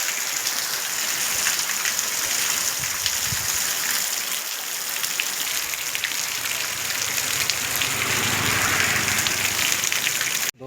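Steady rain pours down on a village in India, a dense, even hiss of drops striking surfaces that stays loud and continuous with no voices, cutting off abruptly at the very end.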